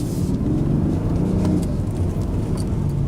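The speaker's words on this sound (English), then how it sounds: "We're gonna do a quick acceleration first." A 2019 Mercedes-AMG GLC 63 Coupe accelerating hard, its engine a loud, dense, close low rumble that holds steady for a few seconds with no talking.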